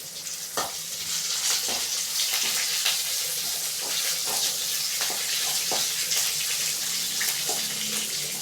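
Washed curry leaves sizzle and crackle steadily in a hot kadai, with a continuous frying hiss and occasional sharp pops.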